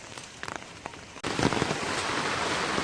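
Heavy rain falls during Tropical Storm Zeta in Jamaica, starting as scattered drops and then abruptly becoming a dense, loud, steady downpour hammering on nearby surfaces.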